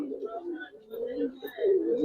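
Giribaz, Mushaldom and Chulli pigeons coo close by, a soft low throaty murmur that swells and fades in uneven bursts over about two seconds.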